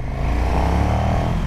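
A KTM 1290 Super Duke R with its big LC8 engine runs close up, a deep, rumbling low-rev drone with a slight rattle, steady and loud over a brief moment.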